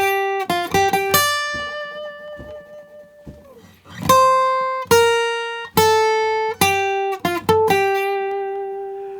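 A clean guitar plays the opening four bars of a song from Baldur's Gate 3 as a short melodic line of distinct picked notes, some quick pairs and some left ringing, played alone and close.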